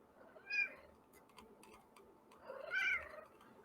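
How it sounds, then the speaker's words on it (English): A house cat meows for attention twice, a short cry followed by a longer one, quiet and fairly close in an otherwise still room. "my cat is yelling at me"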